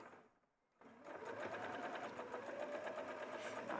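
A sewing machine stitches steadily through several layers of fabric, its motor whirring at an even rhythmic pace after a brief pause, close and continuous.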